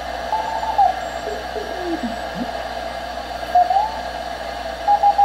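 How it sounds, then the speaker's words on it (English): A CW Morse signal on a direct conversion ham receiver, the Vectronics 1140K kit, tuned past zero beat: faint sweeping tones over steady hiss and hum, with short beeps rising in pitch. "if I come down on a CW signal and go past zero beat, I'll hear him just as strongly on the other side."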